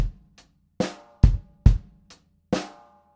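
A single bar of a rock drum groove: a handful of crisp kick, snare and cymbal strikes, close and loud, ending on a final quarter-note hit with no voices.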